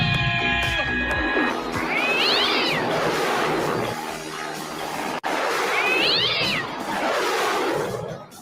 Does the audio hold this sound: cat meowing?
yes